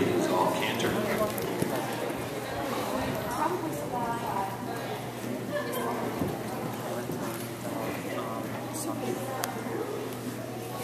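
A horse canters in an intermediate flat class at an equestrian show, its rhythmic hoofbeats steady and moderately close, with voices and arena noise around them.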